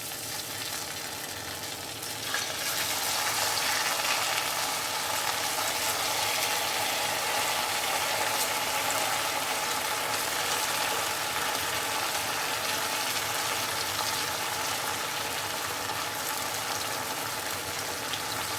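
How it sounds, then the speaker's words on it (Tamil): Cut pieces of idli deep-frying in hot oil, a steady, dense sizzle and bubble that swells after a couple of seconds and then holds loud and continuous, with no voices. "இப்போது கட் பண்ணி வச்சுருக்க இட்லியை பொரிச்சு எடுக்கலாம்."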